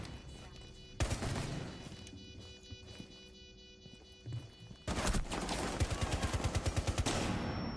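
Gunfire in Rainbow Six Siege during a competitive esports match, with an early loud burst, sparse single shots, then a rapid rhythmic string of automatic fire near the end.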